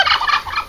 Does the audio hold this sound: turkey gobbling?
yes